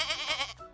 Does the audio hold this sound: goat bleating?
yes